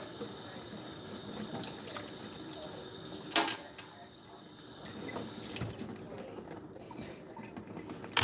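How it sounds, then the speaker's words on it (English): Kitchen tap water runs steadily while food is rinsed during salmon, shrimp and avocado salad prep, a soft continuous splashing stream with a brief louder burst near the middle and faint background sounds. "Just run a little water over it"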